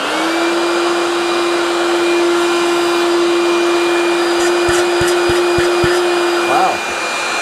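Dewalt DCV517 cordless vacuum running close up, a steady loud motor whine holding an even pitch for about six and a half seconds, a few soft knocks near the end before it winds down.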